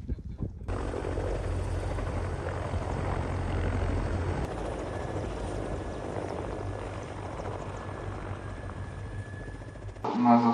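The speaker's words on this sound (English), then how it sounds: "The helicopters, partly decorated in the colors of the Ukrainian flag, launched missiles at combat points as they undertook the operations." Military helicopters, some painted partly in Ukrainian flag colors, fly during a combat operation, their engine and rotor noise a loud, steady roar that fills the whole stretch before cutting off near the end.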